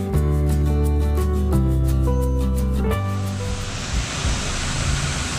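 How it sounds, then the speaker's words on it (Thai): At Mae Kampong waterfall in a mountain village, a steady broadband rush of falling water takes over after a few seconds of tonal music, loud and constant to the end. "ที่นี่ก็จะเป็นน้ำตกแม่คำปอง"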